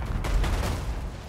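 Volley of gunfire during a multiplayer Total War battle between Bretonnia and High Elves, loud overlapping shots packed into a dense burst with no talking.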